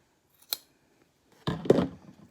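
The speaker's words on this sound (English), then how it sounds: "It's important to have good scissors because you get a nice clean cut." Fabric scissors make one quick snip, then a longer crunching cut through a thick sock just above the heel follows, close and crisp, with no talking.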